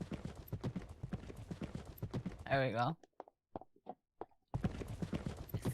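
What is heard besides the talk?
horse hooves clip-clopping in Second Life video game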